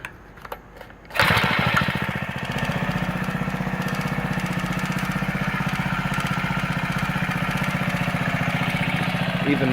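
A small gas-powered four-stroke engine, taken from a rototiller and fitted to a Razor scooter, starts after a second of near quiet, then runs loud and steady at a fast, even idle, close by, with no talk.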